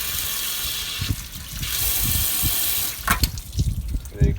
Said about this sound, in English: as you're filling your water tank, make sure you have water coming out